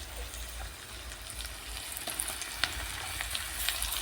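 Onion with turmeric powder stirred and frying in a pan, a steady soft sizzle with scattered scraping clicks of the spoon against the pan, close and fairly quiet, no talking.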